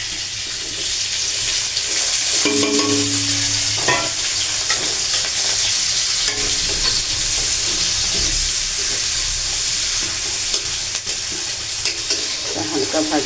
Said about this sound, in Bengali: এবার কড়াইতে তেল দিয়ে দিয়েছি। দিয়ে এবার আমি পাস্তাটা ভেজে দেবো। প্রথমে আমি দিয়ে দেবো পেঁয়াজ কুচি।